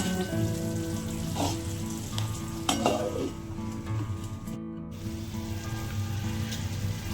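Chicken frying in a pan keeps up a steady sizzle as it is stirred, with occasional scraping strokes from a utensil. The sound is close and continuous, with no one talking.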